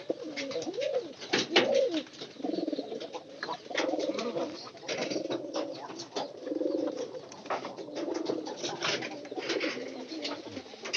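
Pigeons in a loft coo steadily and overlapping throughout, a dense, continuous chorus of low throaty rolls with scattered rustling and clicks, close and moderately loud.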